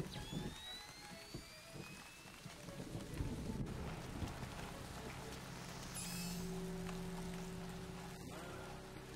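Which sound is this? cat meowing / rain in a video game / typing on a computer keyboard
rain in a video game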